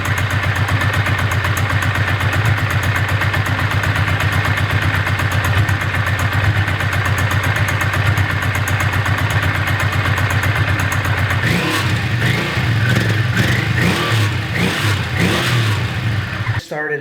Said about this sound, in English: I mean, it's a V-twin, but it sounds so quiet. It sounds so smooth, almost like an inline 2.